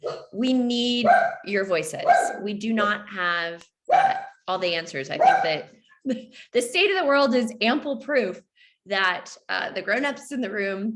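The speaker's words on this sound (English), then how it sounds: "You can probably hear my dog in the background." A dog barks in the background, mostly buried beneath a person talking continuously in the foreground.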